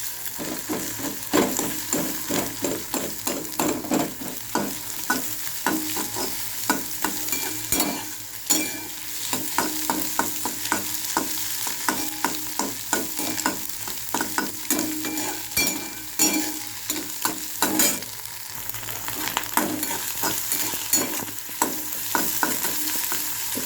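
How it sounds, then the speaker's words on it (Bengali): Egg and onion frying in a pan, a steady sizzle under repeated rhythmic scraping and stirring strokes, close and continuous with no voices. "পেঁয়াজ দিয়ে ডিমটা একবারই ভালো করে ভাজা হয়ে গেছে"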